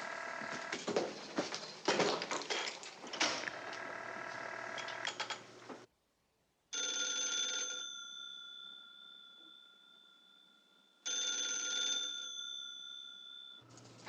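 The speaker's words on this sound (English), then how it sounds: "Answer your phone, Blondie." A 1950s telephone bell ringing in an apartment, a long loud metallic ring followed after a pause by two more ring bursts, close and insistent under film score.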